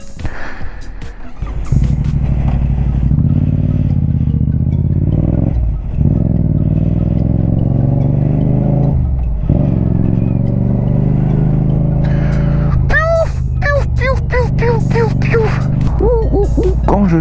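Yamaha MT-07 motorcycle with a loud aftermarket exhaust rides through a town, giving a steady, close droning engine note with brief dips as the throttle closes. Someone talks over it in French, and sharp revs rise near the end.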